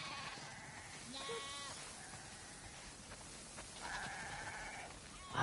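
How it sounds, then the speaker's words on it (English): Several sheep in The Last of Us Part II bleat in turn, wavering calls spaced apart over a quiet background. "Wow, that's a lot of sheep."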